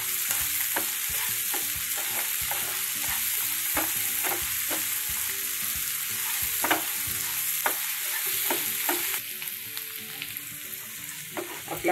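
Salted onion sautéing in a pan for a dried-fish curry: a loud, continuous sizzle with frequent clattering stirs of a spoon against the pan, busy and close throughout, and no talking.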